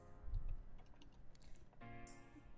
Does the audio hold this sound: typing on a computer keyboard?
yes